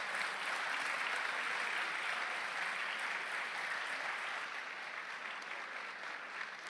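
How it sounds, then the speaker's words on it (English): A conference audience applauds a speaker named James, steady dense clapping that carries on evenly for several seconds before tapering slightly, with no talk over it. "A round of applause for James."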